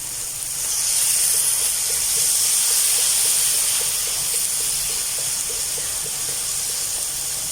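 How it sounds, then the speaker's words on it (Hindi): Soy sauce poured into a hot pan while cooking a desi-style Chinese biryani sets off a loud, steady steam hiss that holds for several seconds with little change. "सोया सॉस डाल देते हैं"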